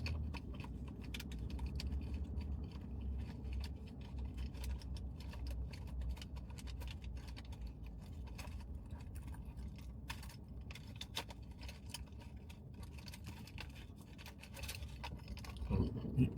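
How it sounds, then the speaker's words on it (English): Someone rummages through a bag for a car key fob, producing soft rustling, scraping and faint jangling clicks that continue throughout over a low car-interior hum. "all that noise is me digging, trying to get my key fob"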